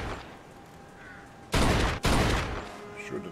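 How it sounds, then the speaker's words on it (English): Gunshots aimed at a car tire in the video game Mafia 3: two loud, close bursts about half a second apart over a low background rumble. "Shoot the tire."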